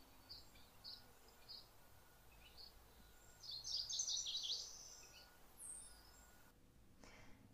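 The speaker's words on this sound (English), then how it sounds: "played the song of the McGilvery's warbler" A high, buzzy warbler song rings out in a few short bursts, thin and somewhat distant, over a quiet outdoor background.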